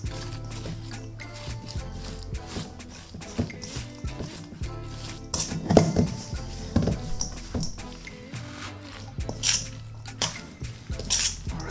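Creamy coleslaw being stirred in a bowl with salt, pepper and parsley, wet squelching and irregular clinks of a utensil against the bowl, close and fairly loud.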